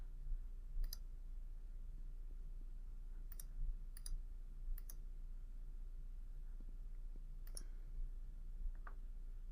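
Computer mouse clicks while setting up a custom audience for a Facebook ad campaign, a handful of sharp, isolated clicks spaced irregularly over a quiet room hum, with no speech.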